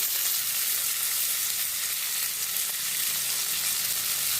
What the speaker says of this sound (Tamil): நல்லா வதக்கிட்டுக்கலாம்